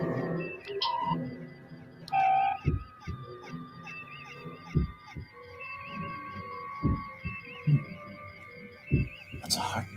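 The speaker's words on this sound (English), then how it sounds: "That's a heartbeat." Low, muffled thumps repeat at a slow, steady pace, like a heartbeat, under electronic beeps and tones.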